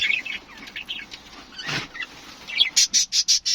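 Budgerigars chirp in an aviary: scattered high tweets, then a quick run of sharp, rhythmic chirps close by.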